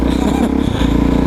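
A Suzuki DRZ400SM motorcycle engine running loud and close, with a rising and falling rev and a rough, buzzing tone throughout.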